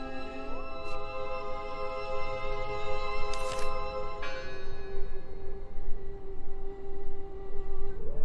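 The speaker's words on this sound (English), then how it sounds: "Listen! The bell!" A church bell rings in the horror video game Draugen, steady tolls ringing out with sustained harmonic tones over a constant ambient wash, fairly loud and unaccompanied by speech.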